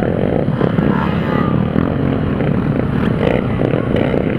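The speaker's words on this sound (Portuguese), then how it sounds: "Aí ó, olha que é moto aqui ó." Motorcycles riding through the final, steepest curve of the Serra Dona Francisca mountain road during a group ride, engines droning loud and close for the whole moment with a rough, rumbling texture.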